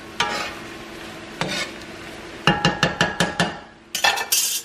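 A spatula clacks against a pan in a quick run of sharp chopping strikes, dicing meat, with faint sizzling in the background.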